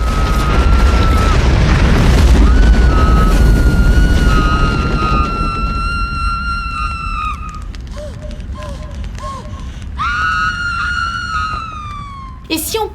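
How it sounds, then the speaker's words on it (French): A real explosion set off during filming of The Fifth Element starts as a loud, sustained boom and gives way to siren-like wailing tones and a scattered, noisy din with no speech. "L'explosion a donc bel et bien lieu sur le tournage"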